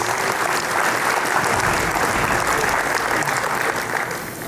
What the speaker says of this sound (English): I'd like to invite, with a huge round of applause, please, everybody